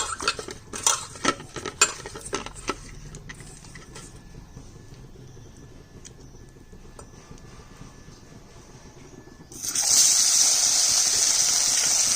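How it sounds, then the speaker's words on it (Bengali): Fish pieces being hand-mixed with oil, salt and turmeric beside a hot kadai: soft wet clinks and squelches come first, then a loud, steady hiss swells up near the end. "তেল, লবণ, হলুদ মেখে দিলাম ভালো করে।"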